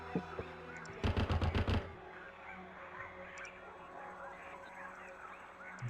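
A rapid burst of about seven automatic gunshots from the 1998 video game Warhammer 40k Chaos Gate, fairly quiet and close, followed by low game ambience, with someone speaking nearby.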